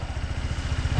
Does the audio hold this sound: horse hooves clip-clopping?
no